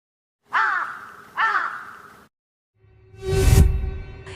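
A cartoon bird gives two mournful, wavering cries deep in a forest, each clear and close, followed by a louder, rougher burst of sound.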